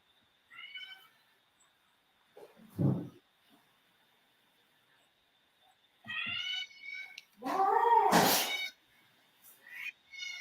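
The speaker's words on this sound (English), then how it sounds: "some of you might be hearing that cat meowing" A cat meows several times with gaps between calls, some short and one long, loud drawn-out cry near the end, close by with no talk.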